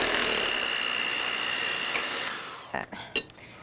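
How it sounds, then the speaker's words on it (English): An electric mixer runs on low speed through coconut banana bread batter, a steady close whir that fades out before a few clunks and bumps against the bowl. "Now, I'm only going on low speed here. I don't want to overmix this."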